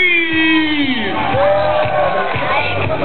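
A crowd at a Singapore car import show night yells, whoops and cheers in loud, sustained bursts, with an amplified voice calling out over the noise.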